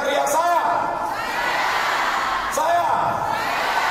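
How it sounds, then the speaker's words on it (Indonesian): A crowd at a gala dinner shouts back in unison twice, with loud overlapping voices rising from a large room and a broad murmur between the bursts. "Yang mendengarkannya teriak saya."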